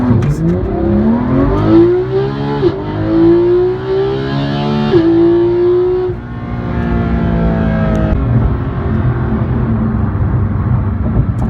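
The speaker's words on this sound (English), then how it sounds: "So Chris, we're going to do a launch control on a road that's pretty wide open" A 2018 Porsche 911 GT3 launches under launch control on an open road, its engine revving hard and climbing in pitch through rapid gear changes, loud and close from inside the car.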